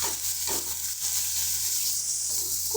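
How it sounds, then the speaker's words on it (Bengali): Marinated chicken and spices sizzle steadily in a pan as the masala is sautéed, with a continuous, close frying hiss and a few soft stirring scrapes. "ভালো করে কষিয়ে নেবো এবারে এটাকে।"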